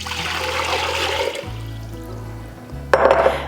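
Water runs into a pot while making light syrup for canning peaches, a steady rushing pour with a gurgling fill and tonal hum beneath, a brief pause, then a louder burst of splashing near the end, with no talking.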